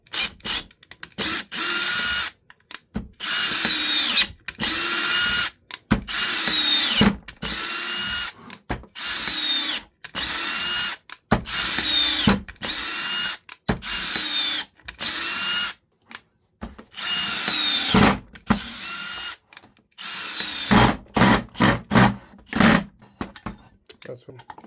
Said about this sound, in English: We have to run countless screws in here to see if they're the real deal